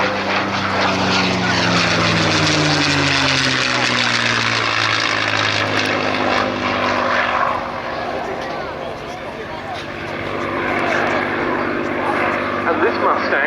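A P-51 Mustang warbird operated by the Rolls-Royce Heritage Flight roars past at the RAF Cosford air show, its loud propeller engine droning and shifting in pitch as a commentator talks over it.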